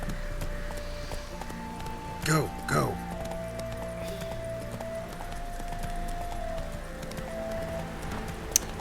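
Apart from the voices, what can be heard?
hooves of Geralt's horse Roach in the video game The Witcher 3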